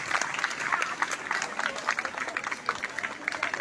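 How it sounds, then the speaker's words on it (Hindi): Schoolchildren clap at a Teachers' Day honour ceremony in a village school, a dense patter of hands fairly faint and steady for the whole stretch, with some voices mixed in. "जोरदार ताली हो जाएंगे सारे बच्चे। ताली बंद नहीं होनी चाहिए"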